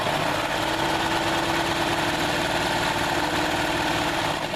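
Serger sewing machine stitching backpack fabric, running at a steady fast hum with rapid needle chatter, close and constant throughout.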